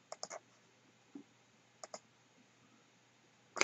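A computer mouse clicks close by in a few quick double clicks spread across a quiet room, ending with a louder click burst.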